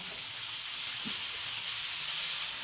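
Spring onion greens hiss and sizzle in a frying pan with tomatoes, a bright continuous close-up frying hiss with no talk over it.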